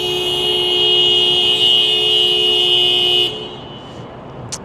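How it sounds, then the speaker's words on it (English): A car horn blares in one long sustained honk on a city street at night, cutting off abruptly, with traffic rumble continuing underneath. "That's right, honk for longer."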